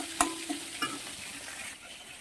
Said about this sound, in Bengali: তো একে একে সব মাছগুলো ভাজতে থাকি